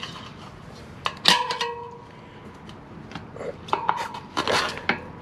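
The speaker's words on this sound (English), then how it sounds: "it's the old spoon technique, fellas" Metal tire spoons prying and clanking against a motorcycle wheel rim during a DIY tire change, giving several sharp scraping clinks and knocks in uneven bursts, close up with no talking.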